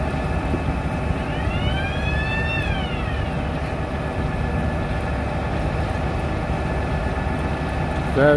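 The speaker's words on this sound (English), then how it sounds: "So we've just had a siren go off." A wailing siren rises and falls over a loud, steady engine rumble, close and continuous, with a brief squeal near the end.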